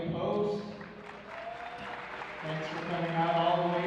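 Applause from an audience at a Magic: The Gathering tournament, steady hand-clapping that swells slightly toward the end, with a voice speaking over it.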